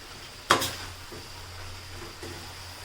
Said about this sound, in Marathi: आता हे सर्व मसाले आपण चांगले मिक्स करून घेऊयात भाजीमध्ये